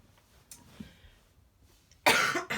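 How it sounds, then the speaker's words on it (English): A quiet room, then a single loud, harsh cough bursts out close by, followed by a brief second rasp. "I've got a cold, a cough."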